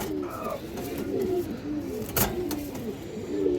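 A red-geared female Giribaz pigeon coos in a loft, its low rising-and-falling coos repeating steadily and close, with other birds and faint background noise around.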